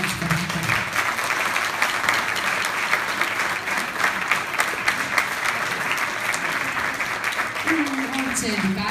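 Audience at a school gala at Transylvania College applauds steadily and loudly throughout, a dense wash of clapping with a few voices calling out over it.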